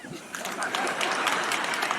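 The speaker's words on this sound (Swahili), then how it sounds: "Makofi kwangu." Crowd clapping at a political rally in Kenya, a short burst of dense applause under a voice speaking over it.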